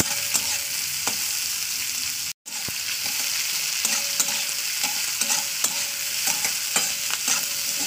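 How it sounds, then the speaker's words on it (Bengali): Chopped carrots fry in a pan with a steady bright sizzle, while a utensil scrapes and stirs them in regular taps and strokes, close and continuous, with no talking. "এটাকে আমি 1 থেকে 2 মিনিট ভাজা করে নেবো।"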